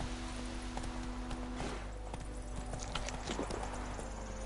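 Horse hooves clip-clop at a steady run in The Witcher video game, close and continuous over a low droning game backdrop.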